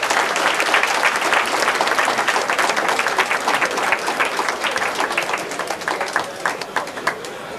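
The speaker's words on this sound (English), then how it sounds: "Please give him another round of applause." An audience at a 1993 awards event applauds for calypsonian Raphael De Leon, a dense, steady wash of clapping that thins and becomes more scattered toward the end.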